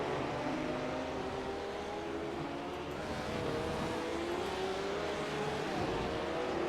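BMW and Porsche GT3 race cars power up a hill on the Rudskogen circuit, their engines forming a steady, continuous roar with rising pitch throughout.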